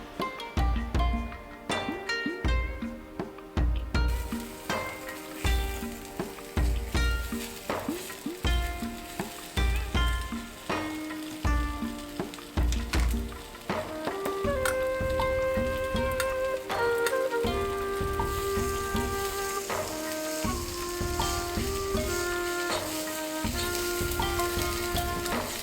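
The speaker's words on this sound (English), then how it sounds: "stir fry pork after heat oil" Pork stir-frying in hot oil over medium-high heat for Japanese ginger pork, a steady loud sizzle with repeated bursts as the meat is tossed and stirred, continuous and close with no talking.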